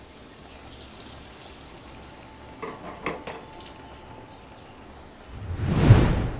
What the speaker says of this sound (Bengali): একইভাবে আমি বাকিগুলো ভেজে নেব।